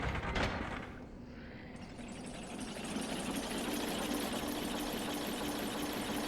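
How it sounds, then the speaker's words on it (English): Elevator in Dark Souls grinding into motion: a brief clank at the start, then a steady mechanical whirring hum that runs on and holds level as the platform travels. "I have to call the elevator down."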